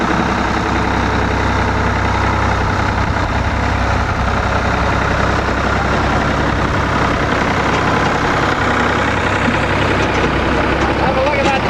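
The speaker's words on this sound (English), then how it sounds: "Trouble with the tractor, but now it's going." A tractor engine runs on a tobacco farm with a loud, continuous, even drone close by, and voices talk over it.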